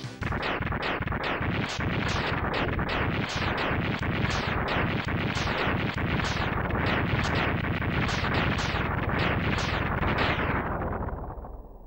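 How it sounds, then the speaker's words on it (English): Explosions from Mega Man X on the SNES boom in a rapid chain of a dozen or more crunchy 16-bit bursts, loud and continuous, before the last one fades out. "Probably my favorite explosion sequence is the Sonic 2 explosion sequence, but Mega Man X is a close second."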